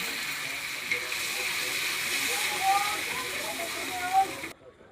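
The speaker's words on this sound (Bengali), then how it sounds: "ওইটা এখন ঢেলে দিব এখানে মাছে" A tomato and spice mixture is poured into a pan with fish, sizzling as a steady, fairly loud hiss that goes on for several seconds before it suddenly drops to near silence.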